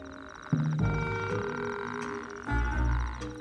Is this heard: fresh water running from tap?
no